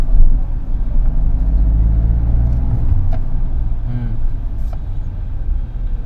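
A Mahindra Thar Roxx on a test drive gives a steady low engine and road rumble throughout, with a few faint clicks and knocks from the cabin over the drone.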